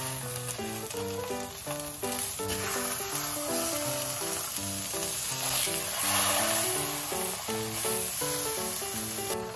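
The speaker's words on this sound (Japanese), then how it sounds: "油を引かずに30秒ずつ焼いていきます。" Salmon sears in a dry pan with no oil. A steady, bright sizzle runs throughout, alongside background music.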